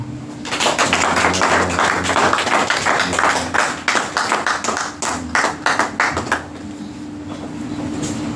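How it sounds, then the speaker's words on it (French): A church congregation claps for the Lord in a quick, steady rhythm over a low droning hum. The claps grow looser and sparser toward the end. "On peut applaudir le Seigneur."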